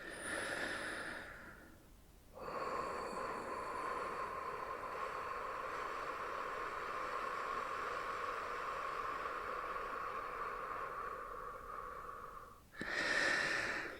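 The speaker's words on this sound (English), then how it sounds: "Maybe even drawing your breath out for 12 to 14 seconds." Slow, drawn-out breathing exercise: a long, steady airy exhalation stretching about ten seconds, bracketed by shorter breaths at the start and end, close and fairly quiet with no talking.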